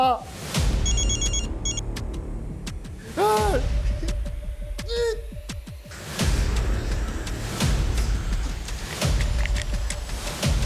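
A telephone rings in repeated bursts against background noise and music, with short whistling chirps in between.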